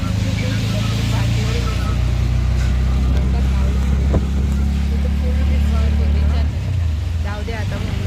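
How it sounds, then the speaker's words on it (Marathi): Inside an auto rickshaw moving through heavy rain, a loud, close engine hum and rattle that holds steady throughout while a person talks over it. "रिक्षात बसलोय. जोराचा पाऊस"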